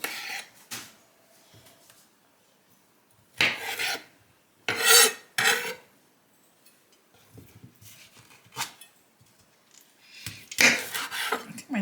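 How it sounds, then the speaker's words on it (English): A kitchen knife is sharpened in several separate bursts of harsh, close rasping strokes, with quiet gaps between them. "I think my knife needs a little bit sharpening"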